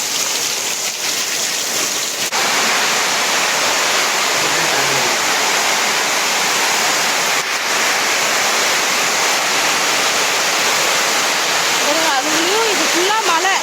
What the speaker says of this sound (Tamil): மழை ஒரு 10 நிமிஷம் கூட இல்லை, அதுக்கே எவ்வளோ மழை.